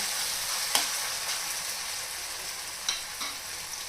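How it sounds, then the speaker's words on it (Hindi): Masala frying in a pan with no water over a very low flame, giving a soft steady sizzle with a few faint stirring scrapes and taps, close and alone. "लेकिन मैं बिना पानी के ही मसाले को पकाऊंगी। फ्लेम को एकदम लो रखा है।"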